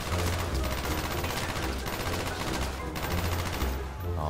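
Death machine gunfire from the Black Ops 1 version in a Call of Duty zombies video game, a dense continuous rapid burst that stays loud and unbroken.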